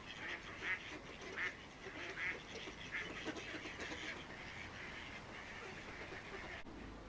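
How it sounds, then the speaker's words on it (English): Ducks quacking at feeding time by a lake at a caravan holiday park, a run of repeated quacks at moderate distance that trails off into quieter outdoor ambience. "it looks like feeding time for ducks over there"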